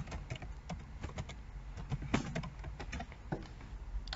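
Computer keyboard keys are tapped in quick, uneven bursts while a file name is typed, close and fairly quiet with no talking.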